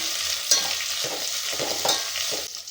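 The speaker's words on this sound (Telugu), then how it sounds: "ఇప్పుడు ఆలు వేసుకుంటున్నాను. అలాగే క్యాలీఫ్లవర్ ముక్కలను వేసుకుంటున్నానండి. ఇలా అన్నీ ఈవెన్గా ఒకసారి అయితే కలుపుకుందాము." Potato and cauliflower pieces frying in a pan are stirred with a utensil, producing a continuous sizzle broken by several scraping strokes at a loose, uneven rhythm, close and fairly loud.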